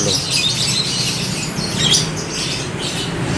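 Many canaries chirping and twittering together in a bird shop, high bright calls overlapping continuously over a steady background hum, nearby and busy.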